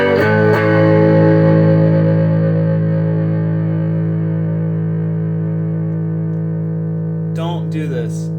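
A Peavey Decade guitar amp rings out with a clean tone carrying a slight whisper of distortion, a loud sustained chord struck once and slowly decaying, with a brief scrape near the end.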